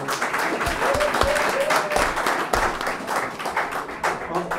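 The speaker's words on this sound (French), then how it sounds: "Je vous invite à applaudir ces enfants" Audience at a literary café evening in Brussels applauding children, moderate clapping with a few distinct close claps and thumps, and faint voices underneath.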